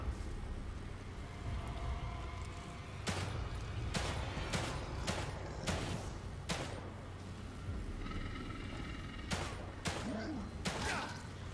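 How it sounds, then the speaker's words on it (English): Gunfire in the survival horror game The Evil Within 2, a series of sharp shots spaced a second or so apart over a steady background rumble, with a voice talking. "My bullets are going right through him."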